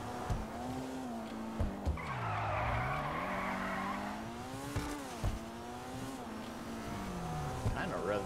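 A Maibatsu Penumbra FF drifts in GTA Online, its tires squealing in a long skid while the engine note rises and falls, with a few sharp thumps and a voice talking underneath.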